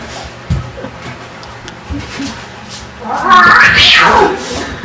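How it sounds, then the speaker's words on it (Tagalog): A cat cries out with a loud, rising and falling meow in the last couple of seconds, following quieter thumps and background noise, and a man can be heard speaking. "may pusa"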